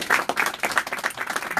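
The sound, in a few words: crowd applause for county chairman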